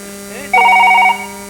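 Telephone ringing with a short electronic warbling ring tone burst lasting about half a second, loud and close over a steady background hum.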